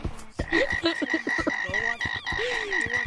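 Frog croaking in the VR video game Gorilla Tag, a rapid series of close, loud croaks and warbling calls repeating over a steady tonal background.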